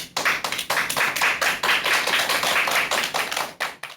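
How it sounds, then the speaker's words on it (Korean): An audience claps for a parenting lecture in a hall, loud, close, dense applause with distinct rhythmic hand strikes, tapering off toward the end. "큰 박수로 강연 청해 듣도록 하겠습니다. 박수 부탁드립니다."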